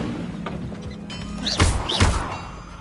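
Incendio fire spell cast in the Hogwarts Legacy video game, two sharp whooshing bursts with thudding impacts about half a second apart, loud and close over a low rumbling game backdrop.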